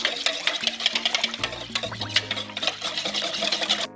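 A whisk beats a liquid mixture of vanilla and vegetable cream in a bowl with quick, rapid scraping and clicking, fairly quiet and steady, with no voice over it.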